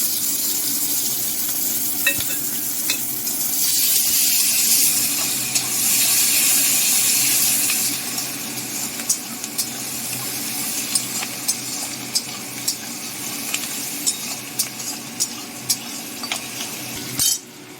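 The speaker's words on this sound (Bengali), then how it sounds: "ফোড়নে দিয়ে দিচ্ছি দুটো তেজপাতা আর গোটা জিরে দিয়ে দিচ্ছি কুচু করে রাখা পেঁয়াজ" Bay leaves, whole cumin and chopped onion fry in hot oil for a Bengali potol chingri dish, giving a steady loud sizzle and hiss with scattered crackles and spatters throughout, no voices.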